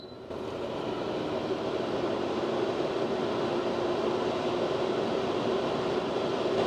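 PuroAir 240 HEPA 14 air purifier fan running on its high speed setting, a steady, loud broadband whoosh of rushing air with a faint tonal hum, continuous and unchanging from start to end.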